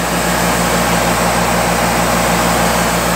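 The Cummins engine of a 2004 Atlas Copco ECM590 drilling rig runs steadily and loud nearby, a constant heavy low drone with a rhythmic pulsing throb and no voices.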